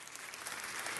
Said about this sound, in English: Can we give Mike a round of applause?